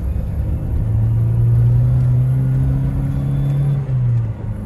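A Chevrolet S10 Rodeio 2.4 pickup running on natural gas pulls away under acceleration, its engine drone rising and holding steady for several seconds, loud and close with no talking.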